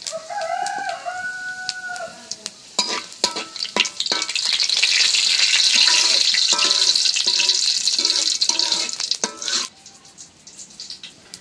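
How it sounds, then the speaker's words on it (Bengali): Whole spices sizzle loudly and steadily in hot oil, with stirring clatter: bay leaf, two dried red chillies, a piece of cinnamon, three small cardamoms and cumin. A rooster crows at the start, and the sizzle fades near the end. "জিরা, আস্ত মশলাগুলি এখন একটু ভাজা নেব।"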